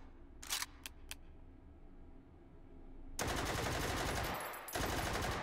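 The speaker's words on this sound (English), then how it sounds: "So now you can set them on fire with incendiary rounds" Gunfire from a rifle loaded with 7.62x39 incendiary rounds in a VR shooting game: a few sharp shots ring out first, then a dense, loud burst of rapid fire rattles on, pausing briefly before resuming.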